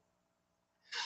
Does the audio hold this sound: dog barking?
no